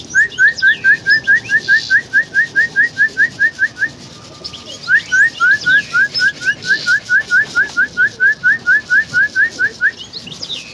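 A whistle blows to call racing pigeons at feeding, in fast, rapid trills, two long bursts separated by a short pause, loud and close.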